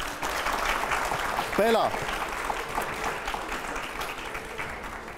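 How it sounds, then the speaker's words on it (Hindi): Audience applause fills a hall during a live public interview with a politician, a steady broadband clapping that runs for several seconds with a brief spoken voice rising over it. "हर सवाल पे तालियां जरूर होनी चाहिए, जवाब पे बल्कि।"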